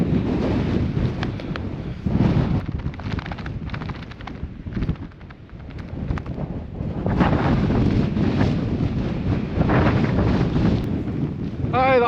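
Gusty wind buffets the microphone on an open hillside beside a loch, roaring in loud uneven surges that swell and ease across the whole stretch, with no voice over it.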